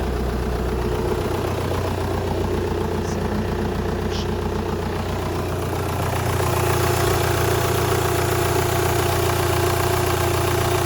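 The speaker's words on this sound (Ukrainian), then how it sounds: "Так, холодний запуск." A fifteen-year-old Mitsubishi Outlander engine turns over from cold and settles into a steady, rough idle, loud and close, with a low rumbling drone throughout.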